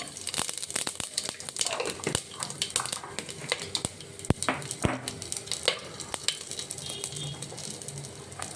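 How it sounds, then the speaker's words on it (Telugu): Whole cinnamon, cardamom and cloves hit hot oil for bagara rice, giving a soft, steady sizzle broken by sharp crackles and pops, with faint stirring scrapes. "కొంచెం ఆయిల్ వేసుకొని మసాలా దినుసులు వేసుకుందామండి అండి చెక్క ఇలాచి లవంగం వేసేసుకుందాము"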